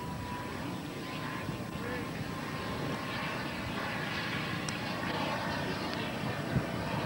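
A turbine-powered giant model Supermarine Swift jet runs with a steady, far-carrying roar and whine that holds evenly throughout, sounding somewhat distant under faint background chatter.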